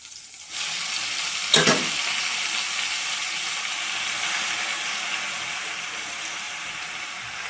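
Washed pulikura greens drop into hot oil in a pan, setting off a sudden loud, steady sizzle that hisses on continuously up close after a brief quiet start, with a sharper crackle as they land.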